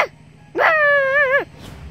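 A voice imitating a dog: one drawn-out whining howl lasting under a second, loud and close, with quiet background before and after.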